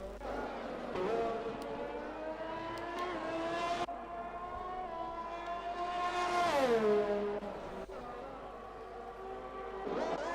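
A racing car engine in a sim racing video game on an Austria circuit revs up and down, its whining tone climbing and dropping through gear changes at moderate, fairly steady loudness.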